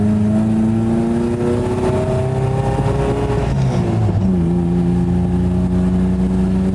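An old truck with a mid-pitched engine drones steadily on a test drive, its tone rising and settling as it shifts and accelerates, loud and close throughout with no talking.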